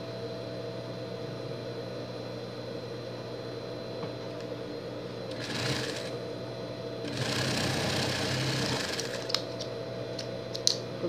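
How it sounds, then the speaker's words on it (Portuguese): A sewing machine stitches denim to stretchy knit fabric with a steady mechanical hum and faint rapid needle rhythm, swelling louder twice as it speeds up, with light clicks near the end. "Costura pelo lado do jeans, porque o lado da malha estica."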